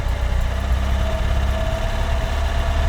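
A VAZ 2107 car engine idles roughly just after a cold start with the choke fully out, giving a low, uneven rumble with vibration, steady and close throughout, no voices.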